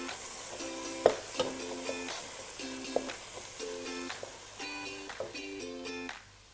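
Onions frying in a pan for a home-cooked Jordanian dish, a steady soft sizzle with occasional sharp clicks and taps of a utensil stirring, alongside faint harmonic background tones.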